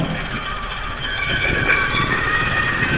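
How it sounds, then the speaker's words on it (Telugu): A train rolls past nearby with a steady rumbling roar and a faint high metallic whine, growing slightly louder toward the end. "ఇక్కడ ట్రైన్ కూడా ఉంది చూడొచ్చు"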